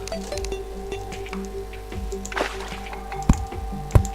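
Water splashes in the video game Terraria: soft squishy drips and two sharper splash hits near the end, set over steady game music.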